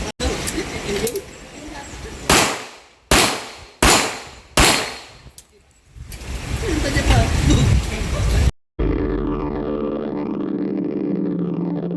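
Pistol shots ring out at an outdoor firing range, first a few scattered reports, then four loud evenly spaced cracks, each with a fading tail, followed by a longer noisy burst.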